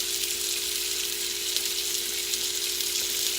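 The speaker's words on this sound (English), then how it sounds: "Olive oil gives lots of meats a real good taste. It fries the outside of it real good." Thick pork steaks frying in olive oil in a pan, a steady bright sizzle with a faint constant hum underneath, close and unbroken with no talking.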